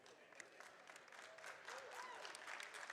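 A crowd at a Games Done Quick speedrun marathon cheers and claps for the AbleGamers charity, a steady wash of applause with a few whoops rising slightly toward the end.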